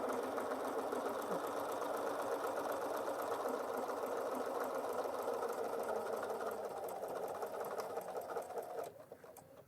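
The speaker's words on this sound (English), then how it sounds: "I'll sew it again. Going a little faster this time." A Bernina 770 sewing machine stitches a buttonhole at a quick pace. Its rapid, even mechanical stitching hum runs steadily and close for about nine seconds, then stops abruptly.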